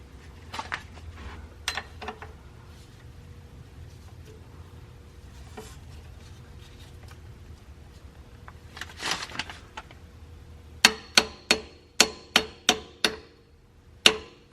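A metal oil pan skid plate being hammered into place on a lowered car: scattered irregular metallic knocks at first, then a quick series of sharp, evenly spaced hammer blows close by, with no talking.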